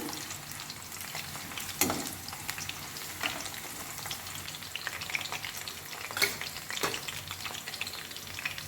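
Lengthwise-cut capsicum frying in a kadai, an even, close sizzle with a few louder spatula scrapes and knocks spaced out over the stretch, no speech.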